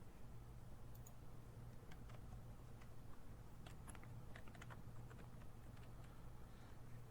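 Soft, quick keystrokes on a computer keyboard while writing a blog post, irregular clusters of faint taps over a steady low hum, with no voices.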